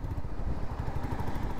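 Royal Enfield Meteor 350 single-cylinder engine pulling through the gears on the road, a low, steady thrumming rumble with a rapid pulsing beat, close and fairly constant without talk.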